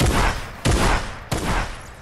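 Three loud, evenly spaced gunshot blasts ring out close up in a Fortnite match, each followed by a short, booming decay.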